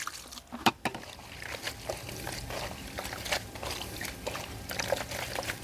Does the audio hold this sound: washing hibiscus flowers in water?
yes